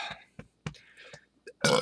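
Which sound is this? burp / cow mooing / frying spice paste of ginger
burp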